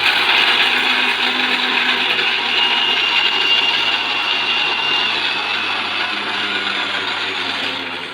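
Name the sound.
mixer grinder running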